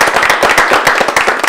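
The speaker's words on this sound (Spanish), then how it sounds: "vamos a dar un fuerte aplauso." Audience applause at a dance show in San Joaquín, a dense, loud, steady clapping close by that fills the whole brief moment.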